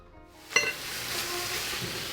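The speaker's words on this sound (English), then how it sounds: "I'll cook this on medium heat, and as soon as it starts to sizzle, I'll add about a cup of this broth" Quesadilla filling on medium heat in a pan breaks into a steady sizzle after a brief clink, the frying hiss filling the space with no talking.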